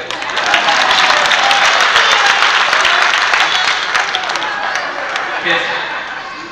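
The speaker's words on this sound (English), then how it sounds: "You can clap for that too." An audience claps loudly in sustained, dense applause at an event honouring quarterback Dan Marino, with a few chuckles and voices mixed in before it slowly thins toward the end.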